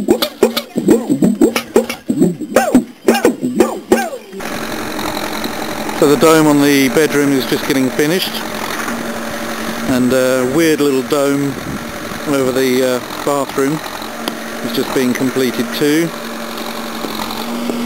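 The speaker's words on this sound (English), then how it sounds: "The noise you can hear there is the JCB" A JCB excavator engine rumbles at a moderate distance while it levels a terrace in Nepal. The steady diesel drone rises and falls with periodic revving under a voice.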